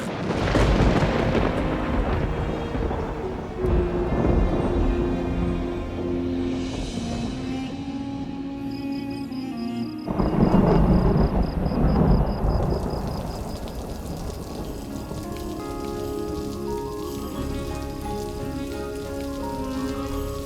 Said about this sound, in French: Attendons ici que cet orage se termine. Et que cette grosse pluie cesse de tomber.